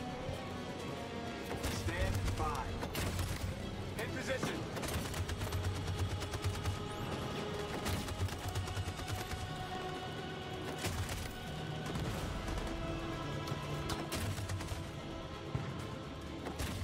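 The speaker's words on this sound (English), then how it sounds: "That machine gun is taking down everything that moves." Sustained machine gun fire in the video game Detroit Become Human: a dense, continuous rattle of rapid shots and crashes, with voices mixed into the chaotic battle.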